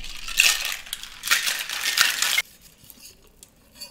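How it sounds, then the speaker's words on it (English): Ice rattling hard inside a cocktail shaker for a pomegranate Pop Rocks drink, a loud continuous shaking burst for about two and a half seconds that stops abruptly, leaving faint clinks. "We're going to add ice to our shaker."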